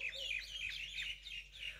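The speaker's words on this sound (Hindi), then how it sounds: "और चिड़ियाओं की आवाज़ तो आप सुन ही सकते हो अलग अलग" Various birds chirping on a foggy morning, a mix of repeated high tweets and short calls at moderate distance over a low background hum.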